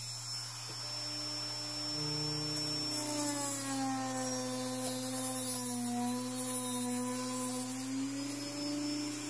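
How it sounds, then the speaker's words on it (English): A Dremel rotary tool with a cutting disc whines steadily, its pitch rising as it speeds up and wavering under load, with a constant hum beneath and no talk. "I think we better put the Dremel on a little bit faster here."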